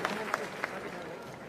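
An audience in an auditorium in Patna, at a state-level workshop, claps to welcome Pavan Varma. The applause is brief and moderately loud, with a few sharper claps standing out of the crowd, and speech is heard along with it.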